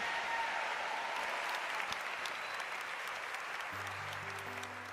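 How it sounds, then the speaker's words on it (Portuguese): A congregation at a Portuguese-language charismatic church service gives sustained, dense applause that holds steady for five seconds, a broad wash of many hands with music faintly underneath. "Aplauda esse Deus mais uma vez."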